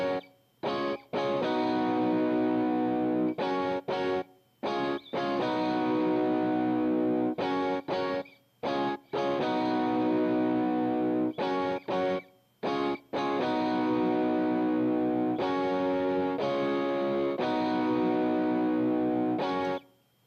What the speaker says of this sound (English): So there, what you heard was the stomp box effects without the actual amp.